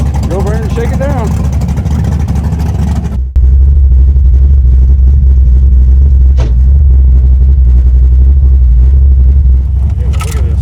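The engine of a 1974 Chevy Nova runs loud and close on a test drive, a heavy, steady low rumble that surges and turns harsher after a brief dip, with a voice over it early on.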